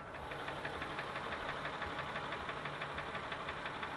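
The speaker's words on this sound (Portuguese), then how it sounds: "Eu quero mostrar pra vocês o barulhinho que tá fazendo o motor aqui." A 2005 Ford Freestar minivan engine idles up close, its steady hum carrying a rapid, regular ticking knock that repeats evenly throughout with no voices.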